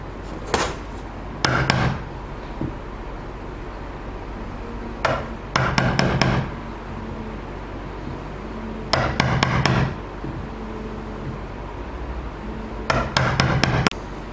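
A chisel is tapped to recess a butt hinge blade into wood, giving short bursts of sharp knocks in quick clusters of three or four, separated by quiet gaps, close and fairly loud.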